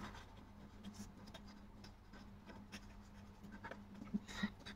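Pen writing the molar gas constant by hand on paper, faint continuous scratching with small taps, close and quiet against a low steady hum.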